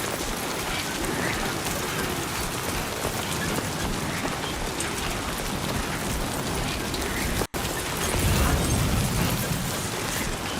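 Steady, dense rain falls throughout a video game scene, a broad continuous wash of droplets with one brief dropout partway through and a heavier low rumble afterward.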